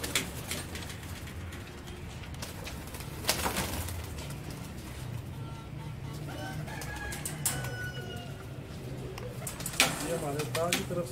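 Pigeons in a Rawalpindi fancier's loft set-up coo and flutter, with occasional wing flaps and bird calls close by, a rooster-like crow among them, over a low background hum.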